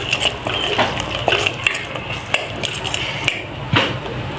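Tomato, coriander and mint masala being stirred in a pot for egg biryani, with repeated scraping and clinking of a spoon against the metal, steady and close, with no talking.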